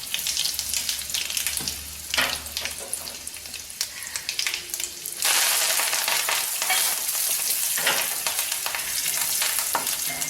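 Mustard seeds, urad dal and asafoetida frying in hot oil for a Tamil buttermilk kuzhambu tempering, a dense close crackle and sizzle that steps up louder partway through, with light stirring and no voices.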